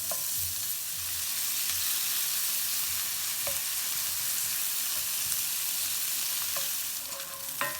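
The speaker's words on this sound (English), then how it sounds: "you're going to start off with the real hot skillet. You're going to take your bacon. You're going to start to render this down." Diced bacon sizzling and rendering down in a hot skillet, a dense continuous crackle close up with a few faint utensil clicks, no talking.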